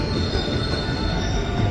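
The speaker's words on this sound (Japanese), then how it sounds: "戻ってきたこちらの電車" JR local train bound for Tennoji pulling into a platform at Osaka Station, steel wheels squealing loudly over a heavy rolling rumble that fills the whole stretch.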